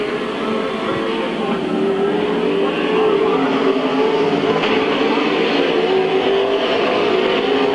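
Race cars roaring around a speedway oval, a continuous loud engine drone with shifting tones as cars pass, one car's ignition reportedly misfiring within the pack.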